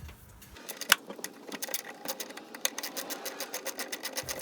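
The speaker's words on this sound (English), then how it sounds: "So I'm going to loosen the bottom one first to totally release the pressure off this one." A ratchet loosening the hood strut bolt on a 1992-1996 Toyota Camry, with rapid, evenly spaced clicks up close and a sharp knock near the start.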